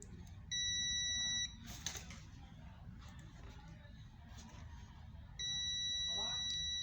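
Multimeter continuity beeps while electronic components such as a MOSFET are tested: two steady electronic tones, one about a second long near the start and another sustained at the end, with low background hum and faint noises between.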